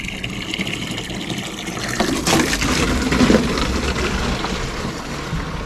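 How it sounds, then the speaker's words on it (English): Water pours steadily into a row of containers being filled, a continuous close gushing rush that swells a little partway through, with no talk. "So I'm gonna line these up and get them filled up with water."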